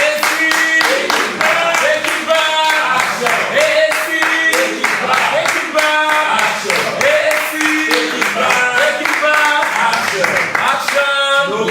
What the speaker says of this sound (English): You guys keep clapping until she.